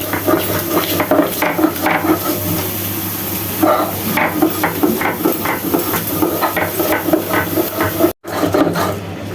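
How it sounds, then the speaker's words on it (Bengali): Dried fish (shutki) ground on a stone grinding slab, steady rhythmic scraping and knocking strokes of the grinding stone repeating close by for several seconds, with a brief gap near the end. "এই যে আমি শুটকিটা বেটে নিচ্ছি।"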